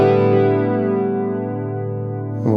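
A Firefly FFMN electric guitar rings out on a clean tone, a single sustained chord with rich harmonics that slowly decays, close and fairly loud, with a fresh attack near the end.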